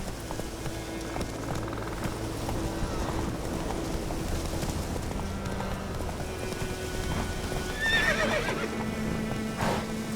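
A horse in The Witcher 3 whinnies and its hooves clip-clop over a busy game soundscape with soft rain-like texture, the neigh rising briefly near the end.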